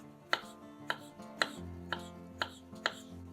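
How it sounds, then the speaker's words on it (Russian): A small pickled cucumber is sliced into half-moons with a knife, giving six evenly spaced, sharp cuts against a cutting board, close and with no voices. "Маленький соленый огурец разрезаем пополам, а затем нарезаем его полукружочками."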